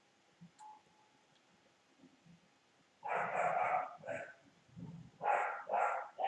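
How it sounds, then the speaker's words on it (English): A dog barks in loud bursts, several sharp barks clustered in the second half, after a quiet start with faint beeps and small sounds indoors. "My dog is going wild."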